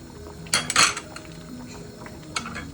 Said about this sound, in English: You have to stir it